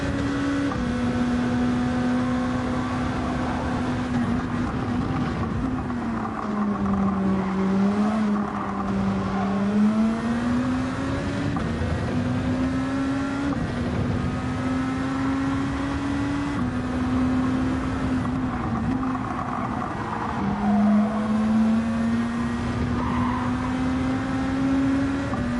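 The engine of a Mercedes CLK race car in the video game Gran Turismo 7 drones steadily, with the pitch dipping and climbing through gear changes and throttle lifts, close and continuous with no talk over it.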